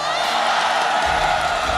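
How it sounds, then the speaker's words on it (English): Crowd at a Mobile Legends M6 esports event cheering and whooping together, a dense, steady roar that fills the whole clip without letup. "Boleh tak kalau kita nak cheer sikit sini, cheer sana?"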